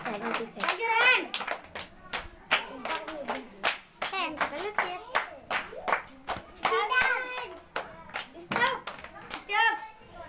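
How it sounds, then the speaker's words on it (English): Children clap their hands in a sharp, rhythmic series of claps during a classroom game, close and clear, while children's voices talk and chant between the claps. "Do the clap."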